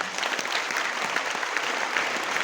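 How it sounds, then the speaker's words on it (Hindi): Sustained, dense applause from a seated audience at a motivational seminar event in Lucknow, steady and fairly loud throughout with no talk. "एक बार इनके लिए जोरदार ताली हो जाए"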